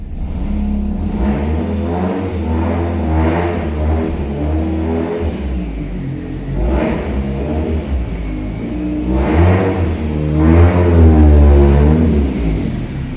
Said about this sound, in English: My man is gonna bring out the car